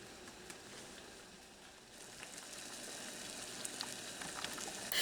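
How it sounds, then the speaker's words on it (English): Water boiling in a large canning pot on a stove while home-canning corn, a faint steady bubbling hiss that grows slightly louder and denser toward the end. "So now the water is boiling"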